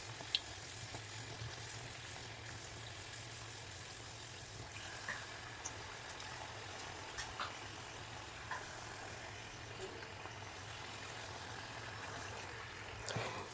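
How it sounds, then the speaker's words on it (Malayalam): A snack fries in oil until golden, a faint, steady hiss of bubbling oil with no voices. "ഇനി ഇതിനൊരു ലൈറ്റ് ഒരു ഗോൾഡൻ ഷെയ്ഡ് ആവുന്ന വരെ നന്നായി ഫ്രൈ ആക്കി എടുക്കാം."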